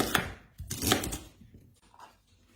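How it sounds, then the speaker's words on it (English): A knife chops through rhubarb on a cutting board, two sharp close thuds followed by softer, irregular knocks and scrapes, with no talk. "Chop the rhubarb"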